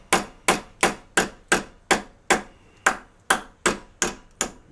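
A hammer drives rivets out of a PSL rifle trunnion in a steady series of about a dozen sharp metallic blows, close and evenly spaced, with no talking.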